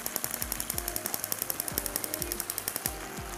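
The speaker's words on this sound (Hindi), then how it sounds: "स्टोव हमारा हो चुका है ऑन।" A gas stove is switched on in a kitchen, its igniter giving a rapid, even train of sharp clicks lasting several seconds.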